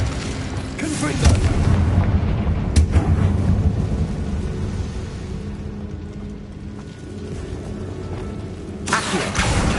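Explosive Confringo spell blasts in Hogwarts Legacy, a few deep booming bursts over a steady low rumble of game sound, with loud impacts near the start and a sharp crack around the middle.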